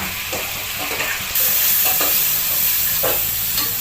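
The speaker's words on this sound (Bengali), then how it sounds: "এখন একটু নাড়াচাড়া দিতে আছি" Turmeric, cumin and coriander fry in a pan, a steady close sizzle broken by several scraping strokes of a stirring spoon, with no voices.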